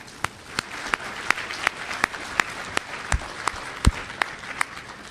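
A DEFCON 17 security conference audience applauds event staff: a steady wash of crowd clapping with a few loud, distinct nearby claps cutting through at irregular intervals.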